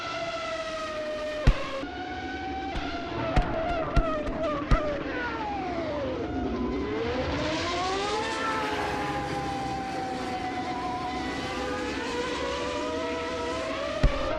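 A Formula 1 Legacy R7 car in a racing simulation laps the Vallelunga circuit. Its high engine whine rises and falls through gear changes and a deep drop for a corner, with a few sharp clicks, and no talking.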